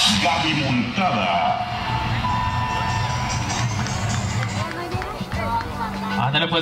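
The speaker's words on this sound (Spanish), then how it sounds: "vamos a recibirla con un fuerte aplauso, que se haga fuerte ese aplauso" A crowd cheers and applauds at a charro arena during a rodeo event, a loud, steady roar of clapping, whoops and shouts with babbling voices mixed in throughout.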